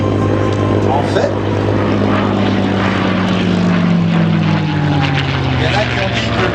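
A P-51 Mustang propeller aircraft flying at an airshow gives a loud, sustained engine drone with a steady low hum and a pitch that slowly falls as it passes, under faint talk.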